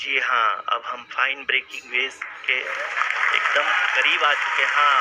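Applause fills ISRO mission control during the Chandrayaan-3 lunar landing, a steady wash of clapping that swells midway and carries on beneath a man's close, continuous commentary.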